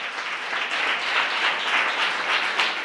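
A church congregation clapping their hands raised overhead in praise, a dense continuous burst of applause from many people, fairly loud and steady without talk.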